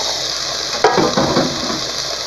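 Meat returned to a hot pan sizzling steadily, with a sharp burst as it hits the pan and some stirring clatter, a close, continuous frying hiss.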